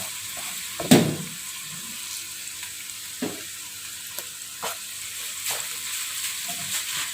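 Minced snapper fish frying in a pan for Malaysian Johor laksa, a steady soft sizzle with a sharp clatter as it goes in and a few light scrapes of stirring.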